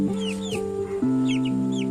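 Hens cluck steadily close by while chicks peep in high, thin chirps over the top.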